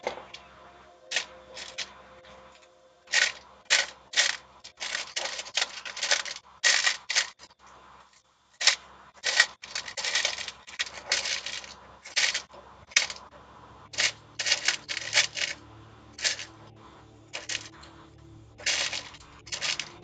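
Small Xbox Series X console screws being handled, a string of sharp close metallic clicks and light rattles in uneven bursts with brief pauses, no voices.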